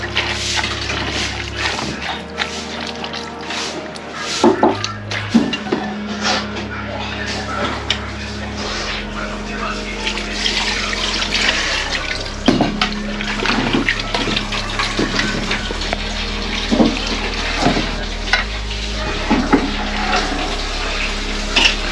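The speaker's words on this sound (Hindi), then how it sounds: "थोड़ा सा पानी डालना पड़ेगा ना।" A little water is poured into a pot of goat head curry ingredients, producing a continuous close splashing, running-water sound with occasional clanks of metal, while people talk over it.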